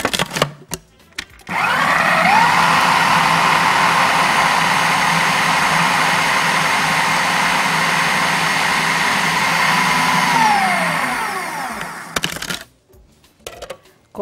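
An electric hand mixer beats two eggs with vanilla for a biscuit dough, starting abruptly and running at a steady, loud whir for about ten seconds, its pitch sagging briefly near the end before it cuts off.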